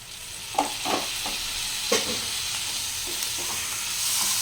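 Jackfruit and potato fry in a pan as tomato goes in, a steady sizzle broken by a handful of scraping, clinking stirs spaced unevenly across the moment.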